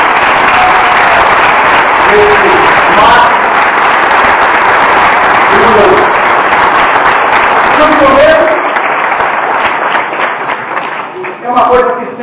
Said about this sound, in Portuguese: Eu quero que nós possamos dar uma grande salva de palmas